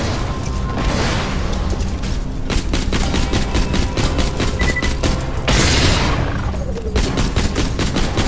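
Gunfire and booming grenade blasts in Borderlands 2 combat, a dense, continuous volley of rapid shots with heavier explosive bursts swelling around the middle and later on, loud and close throughout.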